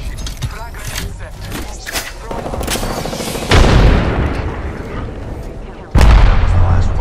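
Gunfire in the battle royale video game Apex Legends during a squad fight, a loud, dense stretch of rapid shots and booming impacts that grows heavier near the end, with bursts stacking over constant in-game effects.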